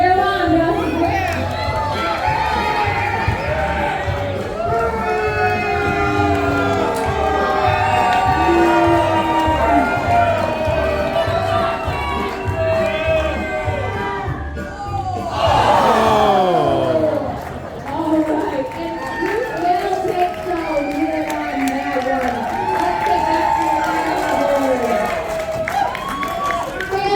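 A crowd cheers and shouts steadily at the Great Alaskan Lumberjack Show in Ketchikan, Alaska, with a loud, dense swell throughout and voices talking over it.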